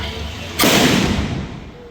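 A single sharp, loud firecracker blast erupts suddenly outside a temple in Prakkulam, Kollam, then its broad noisy roar lingers and slowly fades outdoors.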